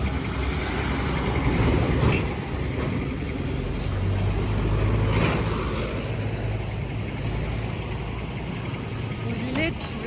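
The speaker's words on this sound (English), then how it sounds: "and my bus just show up" A bus arrives at a stop on the road from Majnu ka Tilla to Dehradun, its low engine rumble and droning hum loud and steady beneath surrounding street noise and background voices.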